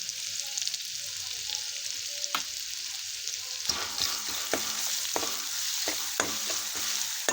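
Ginger, garlic, coconut and coriander paste sautés in a pan with a continuous hiss, broken by repeated scraping stirs and sharp clicks of the spoon.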